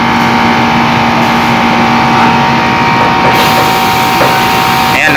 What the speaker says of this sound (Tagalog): iba na yung tunog ng compressor.